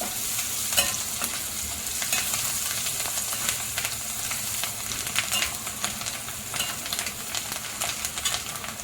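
Steady sizzling of white bitter gourd thecha frying in a pan as coriander is stirred in, with continuous crackle and repeated scraping strokes of a spoon, close and even throughout.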